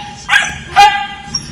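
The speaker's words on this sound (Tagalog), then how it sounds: "Nakaba-violente naman ang aso" A dog barks twice, sharp and close, then gives a short faint yip, with a low background hum throughout.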